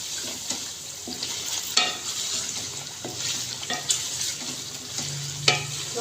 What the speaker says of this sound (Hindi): दो से 3 मिनट टिंडे डाल के हम इसको भून लेते हैं अच्छे से